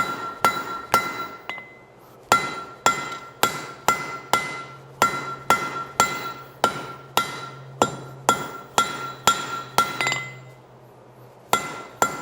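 A hammer strikes a forge-welded steel bar on an anvil to test the weld, about twenty sharp, ringing metallic blows in a steady rhythm, each followed by a brief ring, with a short pause after the first few.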